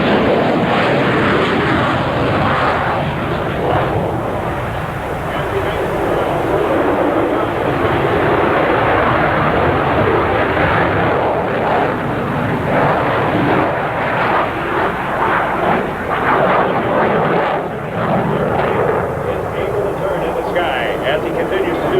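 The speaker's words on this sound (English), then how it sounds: "This time, doing a 1990s Top Gun Soviet aircraft, the Mikoyan." A Soviet MiG-29 jet fighter performing a flying display with rolling maneuvers, its engine roar loud and continuous throughout, with an announcer talking over it.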